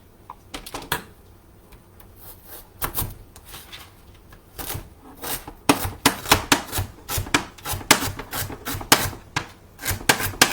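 Celery stalks being chopped with a knife on a cutting board: a steady series of sharp, close knocks that start sparse and quicken into a dense, rhythmic run of cuts.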